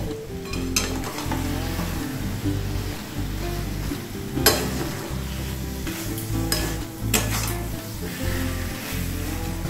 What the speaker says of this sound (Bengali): গুড় গলতে শুরু করেছে।